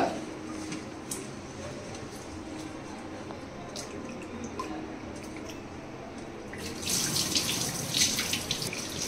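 Rice being rinsed under a running tap, water splashing steadily into a vessel with scattered drips, and the flow grows louder and brighter near the end; no one speaks.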